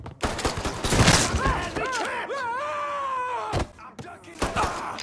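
Gunfire in the video game Mafia III during a confrontation with Frankie Bernard, with bursts of shots and sharp impacts around shouted voices and a descending whistling effect.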